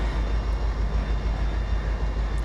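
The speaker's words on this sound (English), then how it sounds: "And there is the train that we are bypassing." A model railroad train runs past on a lumber-run layout, a steady close rumble with a regular low rhythmic clatter of wheels on track, continuous and alone.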